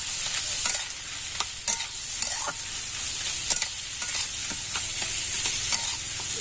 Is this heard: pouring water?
no